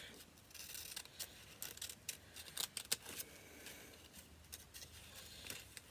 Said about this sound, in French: on peut découper un petit peu.